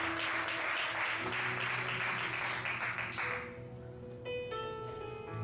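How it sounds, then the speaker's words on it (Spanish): A church congregation applauds in a steady, full burst of clapping for a few seconds. The clapping then fades away, leaving sustained music tones. "Denle un aplauso, Señor, por la vida de esta comunidad"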